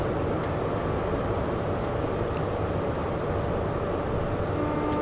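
A train sets off in Train Sim World 2, heard as a steady, loud low rumble and hum of the engine and rolling stock, with faint tonal whines, no voices.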